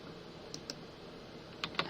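A few light computer keyboard key presses, the G key tapped repeatedly, sound as faint, crisp clicks in two pairs over a quiet room hiss.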